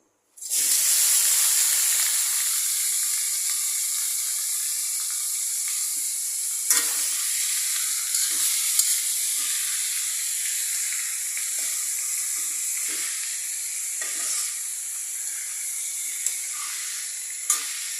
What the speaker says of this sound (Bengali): একটু শসা ভাজি করে নিচ্ছি।